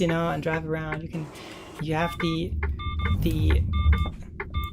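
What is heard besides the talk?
blind spot warning beeps from a bus in Heavy Vehicles Turkey video game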